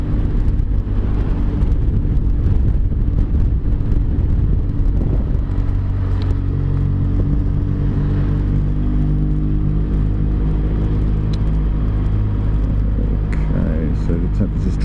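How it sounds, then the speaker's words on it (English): A slow vehicle struggles up a hill in the near side lane of a road in Andalusia, heard as a loud, continuous low engine rumble mixed with wind roar from a passing motorcycle while someone talks over it. "Very slow vehicle in the near side lane. Struggling with a hill, I should think."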